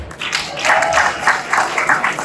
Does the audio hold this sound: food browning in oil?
no